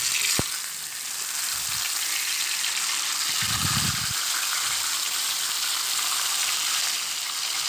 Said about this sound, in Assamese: প্ৰথমে মাছটো ভাজি লৈছোঁ টাৱাত।